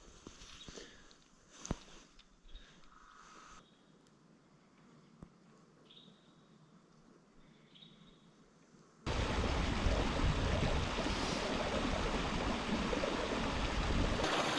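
Mountain stream in Kings Canyon National Park, a quiet outdoor stretch with faint birdsong and a few footsteps, then a close, steady rush of flowing water that takes over and stays loud.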